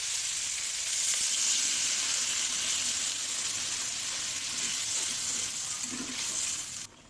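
Water poured into a pan of sizzling fried spice masala with fried soybeans for an egg and soybean curry: a steady, loud hiss and bubbling sizzle running throughout, with a faint clink near the end.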